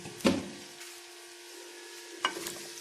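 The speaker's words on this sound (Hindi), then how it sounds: "ये आलू मैं फ्राई करूँगी।" Potatoes frying in oil give a faint, steady sizzle, punctuated by two sharp clacks of stirring about two seconds apart.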